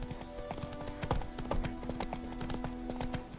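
Horse hooves clip-clop at a steady, even riding pace over faint background hum in The Witcher 3, with the regular beats continuing throughout at moderate volume.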